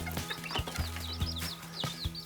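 Chickens cluck in a mixed poultry coop while chicks peep in high, repeated chirps, close and fairly quiet, with no one speaking.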